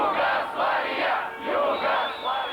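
A crowd of about 1,000 anti-NATO protesters outside the U.S. Embassy in 1999 roars in loud, surging waves of massed shouting that rise and fall continuously.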